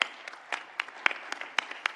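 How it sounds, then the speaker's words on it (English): A small group claps for the speakers at the close of a high-level energy transition dialogue, producing sparse, uneven claps that sound faint and somewhat distant. "let's give a warm round of applause, first of all, to all of our speakers today"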